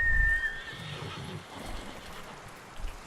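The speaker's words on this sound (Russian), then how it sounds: "А где мой конь?" A horse whinnies loudly in a video game, a sharp rising neigh right at the start that fades within the first second, followed by quieter background game ambience.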